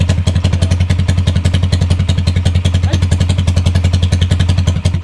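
A TMX 155 motorcycle with a racing CDI runs loud and close, its engine hammering out a fast, even stream of sharp popping thumps with a rattling clatter, steady throughout.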